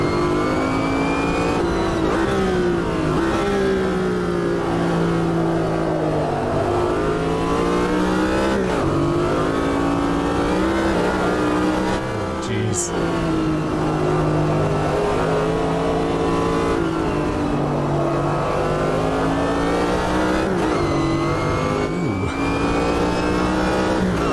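Historic race cars, including a Corvette GTP, racing in a Group C versus Group A event at Hockenheim, their engines loud and continuous as they rev and shift with rising and falling pitch throughout.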